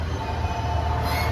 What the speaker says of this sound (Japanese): この列車は岐阜宇奈川線